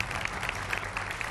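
A studio audience at a televised Hindi political debate show applauds to welcome a Congress party national spokesperson, producing a brief burst of dense clapping that sounds fairly faint and slightly distant.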